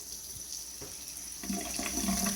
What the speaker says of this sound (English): So I'm just rinsing this lentil real good.